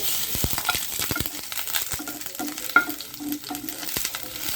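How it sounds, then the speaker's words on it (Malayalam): Ginger-garlic paste hits hot oil with popped mustard seeds for a thoran, crackling and sizzling up close while a spoon knocks and scrapes the pan in quick, uneven strokes, no voices. "ഇഞ്ചിയും വെളുത്തുള്ളിയും കൂടെ പേസ്റ്റ് ആക്കിയത് ഇട്ട് കൊടുത്തു"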